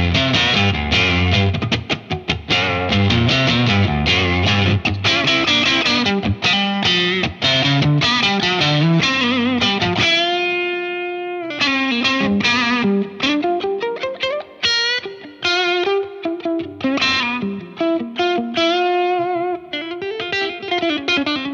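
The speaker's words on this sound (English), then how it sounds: "I'm going to throw in the Origin Effects Revival Drive Compact" An electric guitar plays through a Victory V4 Duchess amp with an Origin Effects Revival Drive Compact pedal, giving driven, distorted chords and sustained notes, then a sparser lead passage with ringing bends, loud and close with no talking.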